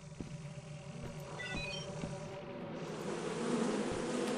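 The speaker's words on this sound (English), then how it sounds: "There's so many bees out here." Steady droning buzz of many bees in a video game, fairly close and continuous, growing a little louder toward the end, with faint electronic tones layered in.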